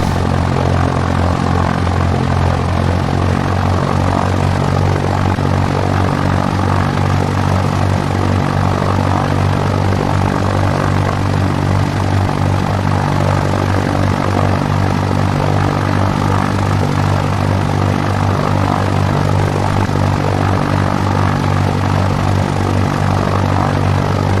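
A propeller airplane engine holding about 1500 RPM in the X-Plane 11 flight simulator, a loud, constant droning hum with a steady low throb that never changes, no voices.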